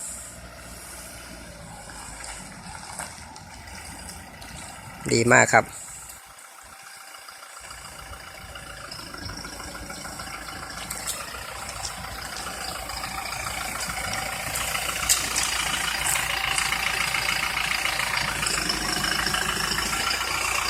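A manual-transmission car engine hums and idles steadily during a hill start, swelling as it is revved over the second half, with a brief loud clatter early on and a short spoken remark.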